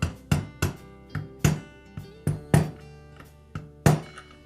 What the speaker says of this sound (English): tap it in place with a mallet